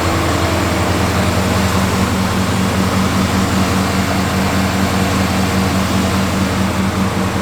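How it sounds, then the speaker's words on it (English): A 1949 GMC 5 Window pickup truck's engine idles steadily with a low, even rumble, close and loud, with no talk over it. "Choke works, hear the idle working."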